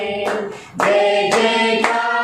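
A congregation at an evening Resurrection Sunday church service claps in several loud, sharp bursts, each clap blending with sustained singing or chanting voices.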